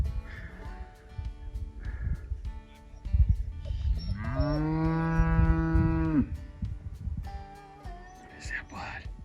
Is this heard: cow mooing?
yes